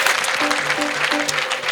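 Wedding guests applaud with ululation, a dense wash of clapping under rising, wavering high trilled cries that repeat several times. The crowd is close and loud, with no speech standing out.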